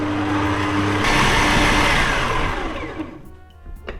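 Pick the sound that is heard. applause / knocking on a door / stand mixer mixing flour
stand mixer mixing flour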